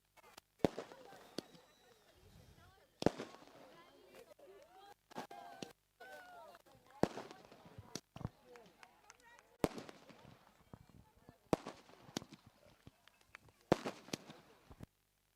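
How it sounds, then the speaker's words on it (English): Fireworks go off at a cricket league final trophy celebration, sharp bangs and pops bursting at irregular intervals while people talk and cheer throughout. "Fireworks."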